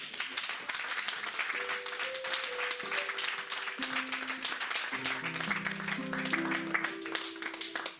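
A church congregation applauds steadily and loudly throughout, with a sustained organ or keyboard chord progression playing underneath and voices mixed into the crowd.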